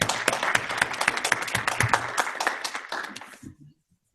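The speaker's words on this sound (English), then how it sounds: "If you would just give him another round of applause" A church congregation at a Sunday service gives a round of applause, brisk and fairly close at first, then thinning and fading out to near silence.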